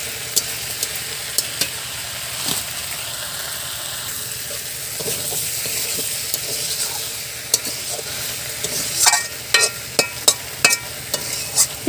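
Raw jackfruit with prawns is stir-fried dry in a pan, a steady sizzle broken by scraping spatula strokes that grow louder and more rhythmic toward the end, with no talking.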